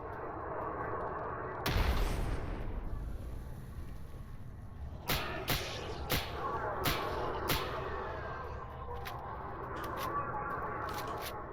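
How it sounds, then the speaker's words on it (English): A grenade goes off in the shooter game S.T.A.L.K.E.R. Anomaly with one loud, close boom, followed by several sharp gunshot-like cracks and a lingering rumble. "I'm gonna go ahead and nade this."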